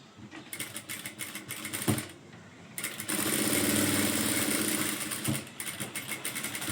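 A sewing machine stitches a blouse, its motor running in bursts with short pauses, a loud steady run taking up the middle and later stretches, close by with no talk.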